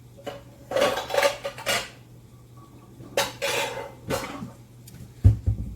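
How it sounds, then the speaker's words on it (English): A bowl grabbed in a kitchen while making peach cobbler, with clattering of dishes and a few loud clinks of crockery in short bursts. "I'm going to grab me a bowl"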